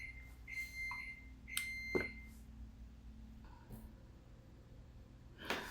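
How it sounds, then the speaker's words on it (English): A few short electronic kitchen timer beeps sound at irregular intervals in a quiet room, thin and fairly faint, with a brief clatter near the end. "You heard that beep. I went and checked my food"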